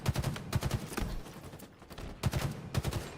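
Grenades going off in a competitive collegiate Halo playoff match, with repeated clusters of sharp blasts and gunfire in quick bursts, separated by a short lull, at moderate volume.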